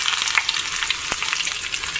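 Garlic and dried red chilies tempering in hot oil for sambar, giving a dense, bright crackling sizzle up close with scattered pops and one sharp snap midway.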